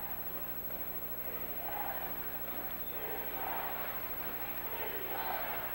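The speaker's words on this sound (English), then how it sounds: "one thing you'll notice from the crowd here in Los Angeles this year, they're much more vocal than they've been in past years" A basketball arena crowd in Los Angeles, at a 1980 Suns versus Lakers playoff game, murmurs faintly and distantly, swelling into a few short roars over a low, steady hum.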